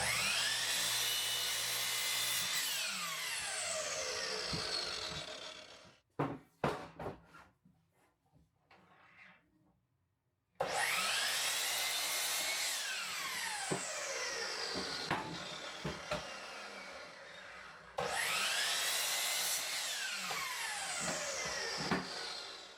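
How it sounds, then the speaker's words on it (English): Power saw ripping through 2x4 lumber for a workbench build, heard as three long, loud, whining cutting passes with the pitch shifting as the blade bites, separated by a quieter gap with clunks and handling noises. "I simply start by cutting the first 2x4 in half at 48 inches."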